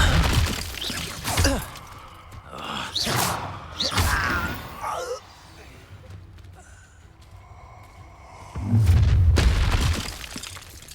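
Fiery spell blasts and crashes from an Incendio fire spell in the Hogwarts Legacy video game, several booming bursts with whooshing tails, the loudest rumbling burst near the end, amid duel combat sounds.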